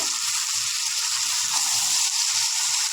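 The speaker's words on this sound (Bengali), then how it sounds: "একটু এপিট নাড়িয়ে দেবো।" River fish fries in a pan with oil, giving a loud, continuous close-up hiss and sizzle that holds steady throughout, with faint low bumps from stirring beneath it and no voices.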